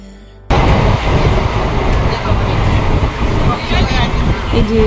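Passenger train pulling out of Puri station, a loud continuous rumble of wheels on rails that starts abruptly and carries on steadily with faint clatter, speech mixed in underneath.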